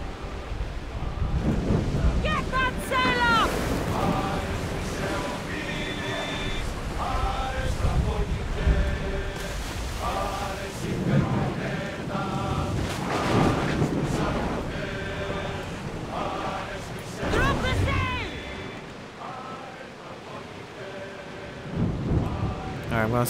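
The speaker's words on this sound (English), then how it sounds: "Wow, it's really stormy this go around too." A stormy sea in Assassin's Creed Odyssey rolls with rumbling thunder, rain and surging waves under howling wind, while tonal game music and brief voices drift through the loud, sustained din.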